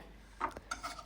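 A knife slices through oven-roasted duck in a home kitchen, giving a few quiet scraping and cutting strokes in close succession, with no talking.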